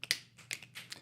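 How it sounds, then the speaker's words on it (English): Members of a high school drama club snap their fingers in time to the Addams Family theme, several crisp snaps heard close and fairly quiet in a loose rhythm over about a second. "They snap. They don't clap. No, they snap."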